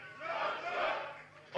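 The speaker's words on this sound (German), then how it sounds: "Und das Ganze mit einem donnernden Schlachtruf" A carnival crowd at a Schwerin carnival society session lets out a thundering battle cry, a loud sustained roar of many voices that swells and dips before a sharp burst at the end.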